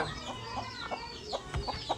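A hen clucking in short, repeated calls at a busy market, with street bustle and other noise around it throughout.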